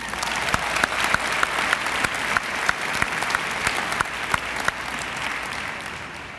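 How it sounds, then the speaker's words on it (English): A large convocation crowd at a college of education ceremony claps steadily in honour of graduates' families, a dense, even wash of applause with a few sharper nearby claps standing out. "Please give them a round of applause"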